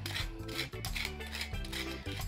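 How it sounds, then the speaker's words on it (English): Nuts being stirred into a sugar and spice mixture in a bowl, heard as continuous close scraping and rattling with rubbing and clinking throughout and no pauses. "I'm gonna mix this all up, incorporate my nuts, coat them evenly"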